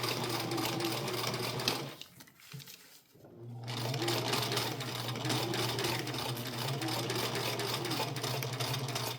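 A sewing machine runs steadily, stitching elastic onto a cloth diaper, breaking off briefly for about a second before resuming a loud continuous buzzing whir.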